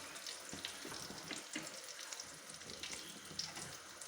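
Banana slices fry in hot oil for sharkara varatti, giving a steady, soft sizzle and crackle with small pops scattered throughout.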